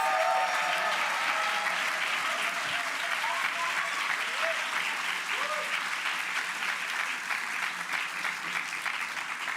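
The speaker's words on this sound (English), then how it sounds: "let's give them a round of applause." An event audience gives a sustained round of applause for an alumni steering committee, many hands clapping in a dense, even stream that holds steady for several seconds, with faint murmurs underneath.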